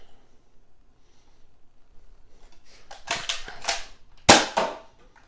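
Adventure Force Aeon Pro foam dart blaster firing Rival rounds and other darts: a few sharp pneumatic pops and clacks, the loudest near the end, up close with no talking.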